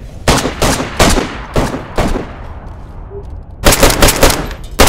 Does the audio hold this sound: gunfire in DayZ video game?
yes